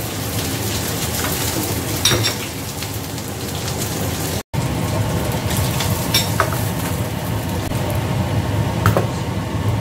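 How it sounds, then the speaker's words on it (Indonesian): Fish frying in a pan, a steady, dense sizzle and crackle of hot oil running throughout at close range, with a few brief louder spatters and a momentary dropout midway; no talking. "kalau goreng ikan nggak mau terlalu kering kayak gini"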